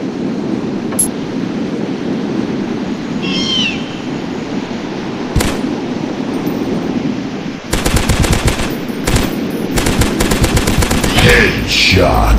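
Rapid automatic gunfire in the Dinosaurs Hunter video game, a loud dense burst in the latter part after scattered single shots and ambient game sounds, no speech heard.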